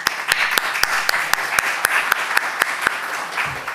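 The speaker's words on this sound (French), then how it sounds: "que nous applaudissions notre orateur" A small audience at an evening talk on whether the Bible is falsified claps for its speaker, a run of sharp, evenly spaced claps, fairly close and clear, fading out after a few seconds.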